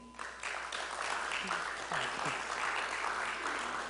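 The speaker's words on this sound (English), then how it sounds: "It's nice to hear you clapping for Audrey." Audience clapping at a public lecture and book launch, a steady wash of moderate applause from a room of listeners that holds throughout with a few voices faintly under it.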